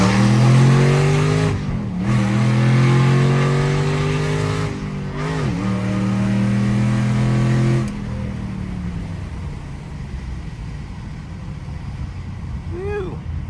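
A 2010 Mustang GT accelerating hard from inside the cabin, the V8 engine climbing in pitch through gears with two brief dips at shifts, loud and close, before settling into a quieter cruising rumble.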